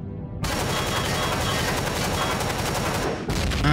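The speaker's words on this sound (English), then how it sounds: "blow it away with the assault rifle" Assault rifle gunfire in the video game Empyrion: a loud continuous stream of rapid automatic shots lasting about three seconds, a short pause, then firing resumes, close and alone without talk.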